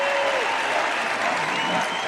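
A large political rally crowd claps and cheers loudly and continuously, a dense wash of applause with no break.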